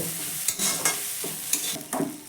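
A spatula stirs egg, vegetables and chopped coriander into a semolina mixture in a hot pan, with soft sizzling and a few sharp scraping strokes close by.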